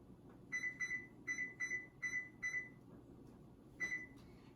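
Oven control panel beeping as it is set to convection bake at 350 degrees, a series of short electronic beeps in quick pairs and singles, clear but fairly quiet against a low room hum.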